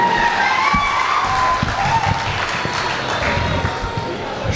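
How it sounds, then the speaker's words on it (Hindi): An audience at a poetry gathering claps to welcome the poet Ameer Imam, a sustained patter of applause under someone speaking over a microphone. "कमजोर तालियां दोनों हाथ ऊपर उठाकर स्वागत कर लीजिए"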